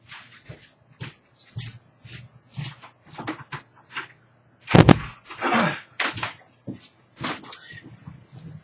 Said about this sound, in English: Our new dog, Chewy.